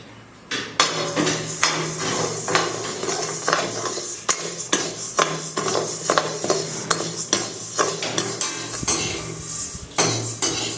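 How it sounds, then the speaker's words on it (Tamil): Urad dal roasting in a pan while a metal spoon or spatula scrapes and clinks against it, making repeated sharp taps and rattling strokes at an uneven rhythm, close and fairly loud, with a rough dry rustle underneath. "இப்போ வந்து உளுந்து அரைச்சி உளுந்து வறுத்துக்கலாம்"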